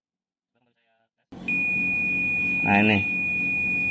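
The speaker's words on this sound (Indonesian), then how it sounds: "Dan coba saya tes dengan menggunakan garis pengukuran buzzer. Untuk kapasitor tidak boleh bunyi ya, kalau bunyi itu short." Continuity buzzer on a multimeter sounding as the probes touch a shorted capacitor, a steady high tone starting about a third of the way in and holding to the end, with a brief spoken word over it.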